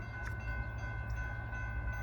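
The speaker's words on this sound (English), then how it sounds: "And here comes the train." A steady low rumble of a Norfolk Southern train rolling past at moderate distance, with a constant hum and faint rail noise throughout, near an old power plant.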